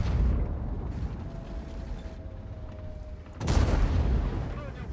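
Tank gun shots in the video game World of Tanks, with a Centurion Action X tank: a loud booming blast opens the clip and a second heavy shot lands midway, over engine rumble and mechanical noise.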